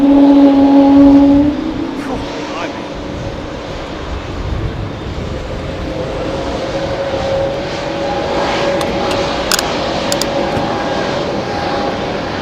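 An Airbus A220 at Heathrow Airport fills the air with steady, loud jet engine roar and a tonal whine that eases after the first seconds, continuing as a broad rumbling drone.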